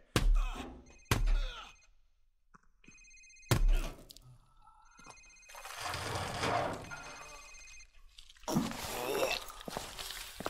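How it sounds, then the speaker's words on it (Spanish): Mobile phone ringing in Call of Duty Modern Warfare Remastered, a few short electronic ring tones between sharp thuds, followed by muffled voices and noise. "Señor. Este es su teléfono móvil."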